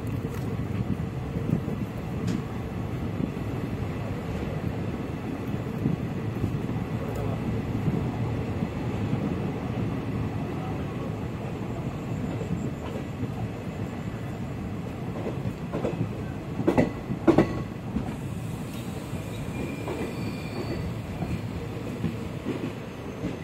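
An overnight passenger train between Kolkata and New Coochbehar runs on the rails, heard from inside as a steady, continuous rumble with faint rhythmic clatter and a few sharper knocks near the end.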